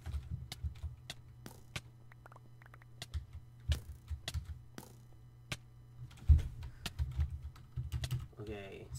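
Rapid clattering keystrokes on a computer keyboard, close and fairly quiet, in irregular bursts over a low steady hum, with a louder cluster of taps near the end.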